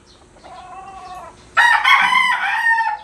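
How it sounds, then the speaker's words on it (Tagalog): A rooster crows nearby, a soft lead-in call followed by a loud, drawn-out cock-a-doodle-doo that carries clearly over a quiet background. "Ayan natalaok."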